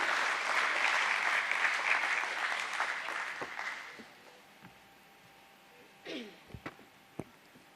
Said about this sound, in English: Let's welcome him as well with a thunderous round of applause